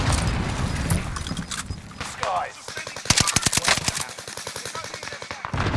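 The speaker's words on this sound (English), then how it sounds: "They're all shooting each other." Video game firefight: rapid bursts of automatic gunfire and single shots crack in close succession, loud and near, with faint speech in the background.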